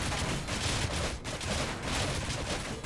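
Gravity cannon fire in the Space Engineers game, a dense, continuous barrage of rumbling blasts that stays loud and steady for about three seconds with one brief dip midway.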